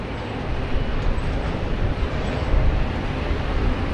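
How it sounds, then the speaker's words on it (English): An airliner takes off at Sydney Airport, heard as a steady, broad roar that holds at an even loudness throughout, with no voices over it. "Alright, already cleared for takeoff."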